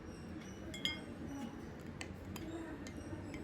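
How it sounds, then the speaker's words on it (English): A metal spoon stirring coriander powder into a glass of water, giving a few faint, light clinks against the glass in a quiet room. "Add a teaspoon of coriander powder to a glass of water and stir."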